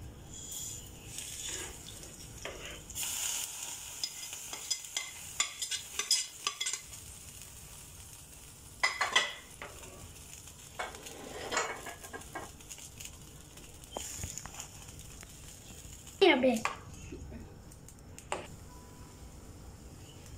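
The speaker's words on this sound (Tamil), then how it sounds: "ரவையை நல்லா கிண்டி விடணும்." Semolina being stirred into boiling water in a pan for rava kesari, with soft scraping and bubbling patter, occasional utensil knocks against the vessel, steady and close, no talking.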